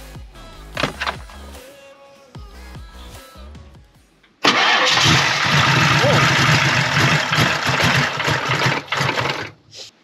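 A 1993 Ford Mustang Notch engine cranks in a few short whirring bursts with pauses, then catches and runs loudly and roughly for several seconds before cutting out near the end.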